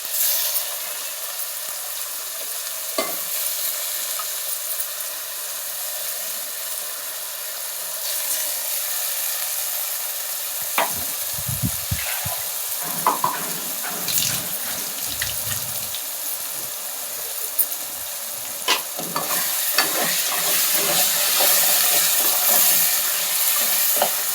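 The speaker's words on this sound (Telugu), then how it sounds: "ఇంకొక 2 మినిట్స్ ఇది కూడా కొంచెం మసాలా అంతా కూడా ఈ ఆలుగడ్డలకి పట్టేటట్టు కొంచెం వేయించుకోవాలండి" Potato masala curry cooking in a pan after a coconut, poppy seed and tomato spice paste is added, giving a steady hiss of frying with scattered stirring scrapes and clinks throughout.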